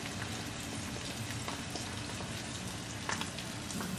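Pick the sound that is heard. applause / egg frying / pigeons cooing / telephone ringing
egg frying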